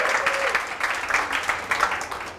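A church congregation at a Christmas service applauds the young people, a dense, steady round of clapping from many hands at moderate distance.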